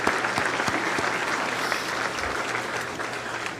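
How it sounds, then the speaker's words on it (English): Audience applause at a State of the City 2024 chamber of commerce event in Dickinson, North Dakota: a steady, dense clapping from a crowd, sustained at even loudness throughout. "I would just like to give them a round of applause"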